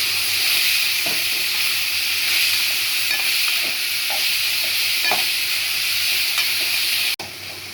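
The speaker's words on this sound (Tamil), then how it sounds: "வெங்காயம் தக்காளி எல்லாம் நல்லா வதங்கிடுச்சு" Onions and tomatoes sauté in a pan for tomato chutney, giving a steady bright hiss and sizzle with a few faint stirring knocks, close and continuous until a sudden break near the end.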